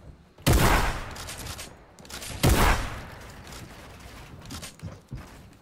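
Two loud shotgun blasts about two seconds apart in a Fortnite one-on-one match, each a sharp burst with a ringing tail, followed by softer game sounds and light footsteps.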